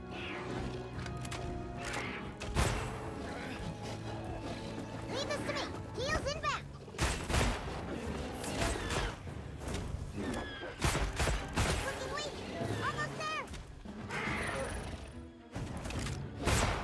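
Rapid-fire bowgun shots in a video game, a jumble of quick thuds, crashes and bursts mixed with game effects, while someone talks over much of it.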